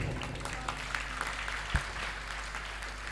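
An audience claps at a Guru Mahotsav devotional gathering. The applause is faint and somewhat distant over a low background hum, with one sharper clap standing out midway.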